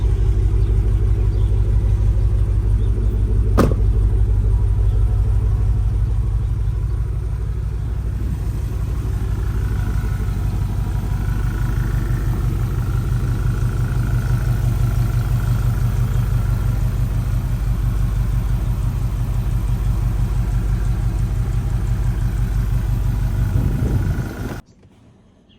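A 2005 Dodge Ram pickup fitted with a swapped 392 Hemi V8 idles after a cold start, a loud, steady, deep rumble running close by for about 24 seconds before cutting off abruptly.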